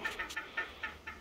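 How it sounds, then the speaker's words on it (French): A young hen clucking in an aviary, a quick series of about six short, fairly soft clucks spaced irregularly over low background hum, with no voices. "c'est une poulette de l'année"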